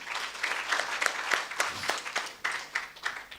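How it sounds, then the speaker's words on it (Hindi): A small audience at a Hindi motivational speech claps briefly, scattered hand claps rising into a short burst of applause and then thinning out. "इनके लिए एक बार ताली मेरी तरफ से।"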